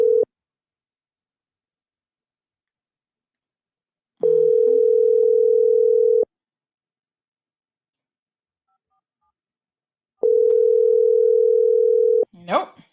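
Telephone ringback on a call that nobody answers, heard as long steady tones of about two seconds separated by several seconds of silence. A brief start of a tone opens the sequence, and a short burst of sound comes at the end.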